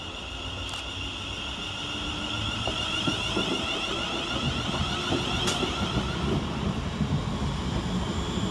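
West Midlands Railway class 350 electric unit 350-375 at Walsall station, a steady rumbling hum and whine building slightly, with faint clanks and brief high squeals, heard from the platform without talk.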